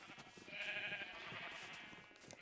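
Sheep bleat in Minecraft, with one sustained wavering cry standing out over softer ambient game sound and faint background noise. No voices are heard.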